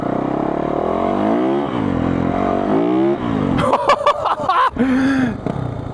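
A two-stroke engine swapped into a Kawasaki Bayou revs with rising and falling pitch, loud and close, then gives way to clattering, choppy bursts near the end.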